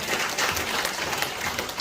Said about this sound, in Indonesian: Tepuk tangan dulu buat AFC.